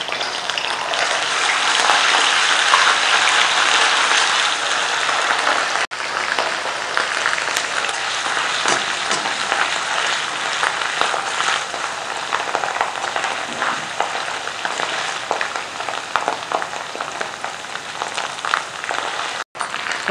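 Garlic and ginger fry in hot oil in a pan for a lentil karahi, a loud, dense, continuous sizzle like heavy rain, close and steady throughout with no talking over it.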